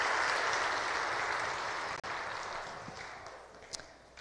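Palm Sunday Mass congregation applauding in a church, steady dense clapping from many hands that fills the room and slowly thins toward the end.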